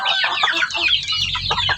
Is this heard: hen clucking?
yes